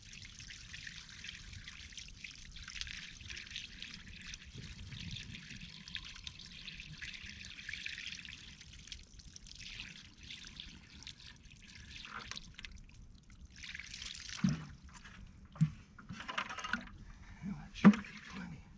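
Water pumped out through a hose trickles and dribbles steadily and faintly for a long stretch, then gives way to a few louder splashes and knocks near the end.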